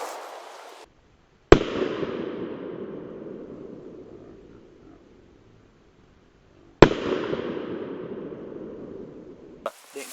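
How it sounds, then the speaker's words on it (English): A 9mm handgun loaded with 115 grain full metal jacket ammunition fired at concrete blocks outdoors: two sharp, loud shots several seconds apart, each followed by a long rolling echo that fades away, no talk. "The first handgun we're going to shoot at blocks today, 9mm with 115 grain Full Metal Jacket ammo"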